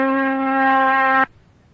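A steady oscillator tone at 256 cycles per second, standing in for an iron bar spun 256 times a second, sounds as a loud, pure hum with clear overtones for about a second and a quarter, then cuts off abruptly into near silence.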